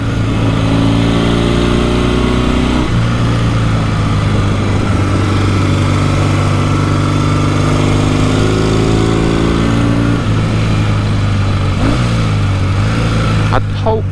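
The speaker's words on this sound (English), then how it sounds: "is picking up some of the amazing engine noise." A 1967 Norton Dominator 650 SS British motorcycle engine runs loud and close, a steady throbbing drone with pitch rising and falling as it shifts through revs, heard from a helmet microphone.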